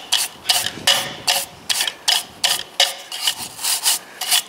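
An old recycled brush scrubs dust off the air filter vent of a Massey Ferguson 135 tractor, making about a dozen steady, rhythmic scratchy strokes, loud and close, with no talk.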